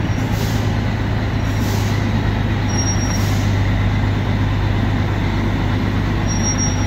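A parked truck builds air pressure before a weighbridge, its engine idling in a steady loud drone with a continuous hiss of the air system, no voices heard.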